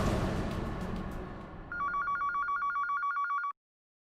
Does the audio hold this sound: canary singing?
no